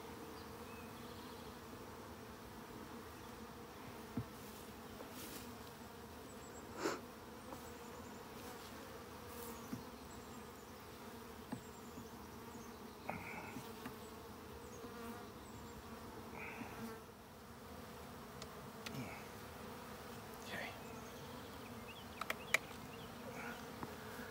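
A swarm of agitated bees hums steadily around an opened Layens hive, a dense continuous buzz with individual insects darting close now and then, no talk over it.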